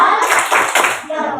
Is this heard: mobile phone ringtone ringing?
no